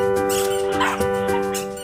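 Two three-month-old Jack Russell Terrier puppies from Mapusa, Goa, whine and yip nearby. A continuous high-pitched whimper is broken by short, sharp yips at a quick, uneven pace.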